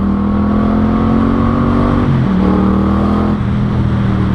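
A lowered Yamaha MT-07 motorcycle accelerating away, loud and close, its engine note holding steady before stepping through gear changes.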